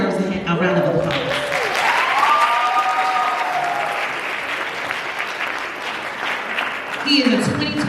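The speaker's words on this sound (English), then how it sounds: "Now that deserves a round of applause" A steady round of audience applause at a Black History Month program, dense and sustained for several seconds, with a voice and some cheering or whooping rising over the clapping before it tapers.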